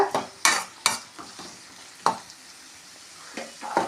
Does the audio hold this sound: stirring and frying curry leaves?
yes